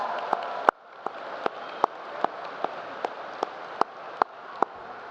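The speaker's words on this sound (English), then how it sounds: "Graduates, I ask that you all join me in a round of applause to recognize the mothers and mother figures" Graduation commencement audience applauding in honor of mothers: a steady wash of crowd clapping with one nearby pair of hands striking sharp, evenly spaced claps for several seconds.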